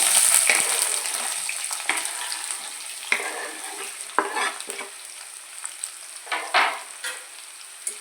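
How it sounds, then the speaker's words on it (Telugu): Onions and green chillies fry in hot oil for a Telugu-style dried fish and egg curry, giving a steady close sizzle broken by scraping stirs and a few sharp crackles, with no voices. "ఇప్పుడు ఆయిల్ వేడి చేసుకునండి అందులో ఉల్లిపాయలు పచ్చిమిరపకాయలు వేసుకొని"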